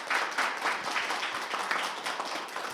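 Audience at a cultural-city panel discussion in Bupyeong applauds together, a dense steady patter of many hands clapping without pause.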